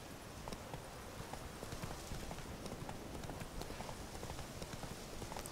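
Geralt's horse Roach (Plötze) trots in The Witcher 3, its hooves clip-clopping in a steady quick rhythm close by over a constant outdoor ambience.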